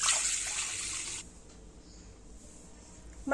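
Soaked rice being washed for chakli sandige: a burst of pouring, splashing water in a kitchen vessel for about a second, then a quieter trickle and faint clatter, with no talk.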